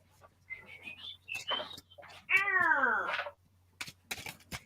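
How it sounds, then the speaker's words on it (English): A single drawn-out meow, clear and fairly close, set among quieter scattered sounds and faint background hum. "Meow meow. Meow."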